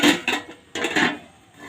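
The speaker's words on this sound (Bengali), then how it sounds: "এখন ঢাকনাটা তুলে নেব।" A lid is lifted off a pot of biryani that has cooked on dum for forty minutes, giving a few brief, close metallic clanks and scrapes.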